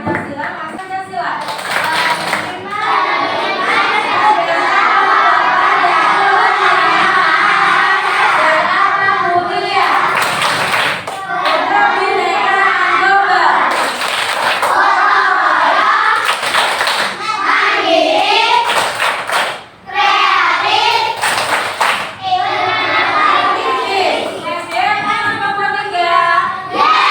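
Children in a classroom clap out a rhythmic hand-clapping game, bursts of sharp claps in patterned sequences mixed with lively group chatter and voices throughout.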